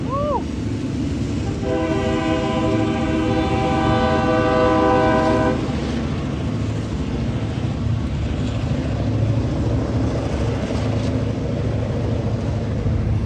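A freight train passes nearby with a loud steady horn blast lasting several seconds, then continues as a heavy rolling rumble with clattering wheels, heard from a waiting vehicle.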